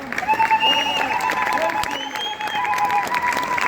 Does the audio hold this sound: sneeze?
no